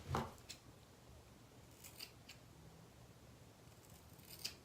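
A few quiet snips of scissors cutting hair, spaced irregularly against near silence, with one sharper snip at the start and another near the end.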